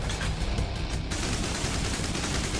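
Dense, continuous video game gunfire in Mothergunship, a loud sustained barrage of rapid shots with no gaps, alone with no talk.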